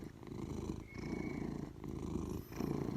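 A pet cat named Blackie purrs steadily up close, a continuous low rumbling pulse with brief pauses for breath, heard alone without any talking.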